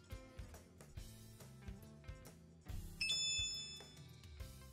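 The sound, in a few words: doorbell ringing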